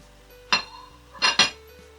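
Grated carrots go into a pot of leeks and get stirred, with three sharp metallic clinks of a utensil striking the pot against near silence.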